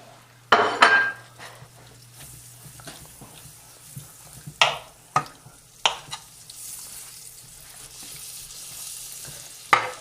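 Four ounces of butter melting in a deep fry pan, a faint steady sizzle punctuated by several sharp clanks and scrapes of utensil on metal, with no talking.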